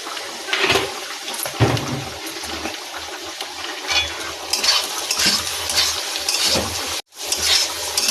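Fried rice with fried cashews and raisins is mixed in a pan, with repeated scraping and clinking of a spoon against metal, soft rustles between strokes and one brief pause near the end.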